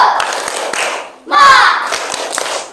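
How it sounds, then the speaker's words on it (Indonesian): A class of children does a rhythmic 'tepuk semangat' clapping ice-breaker, with patterned bursts of hand claps and a short pause, then a louder burst with chanted voices mixed in. "yuk kita melakukan ice breaking. Tepuk semangat."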